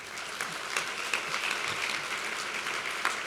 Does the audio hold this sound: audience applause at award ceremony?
yes